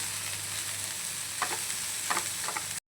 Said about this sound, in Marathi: त्यानंतर मी मुळा आणि भाजी आहे एकत्रच भाजून घेणार आहे